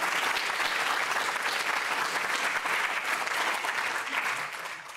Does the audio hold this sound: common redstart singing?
no